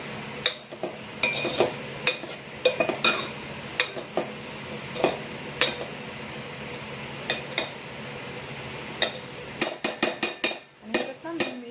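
A spoon stirs snake gourd and potato curry with fresh grated coconut and coriander in a pan, giving repeated close clinks and scrapes against the metal in an irregular rhythm, with a soft sizzle beneath.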